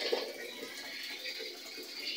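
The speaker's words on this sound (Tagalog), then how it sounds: "diretso pumapasok yung tubig." Steady rushing of tap water pouring into a faulty washing machine that keeps filling while the tap is open, a continuous broadband hiss with no talking, fairly close and even in loudness throughout.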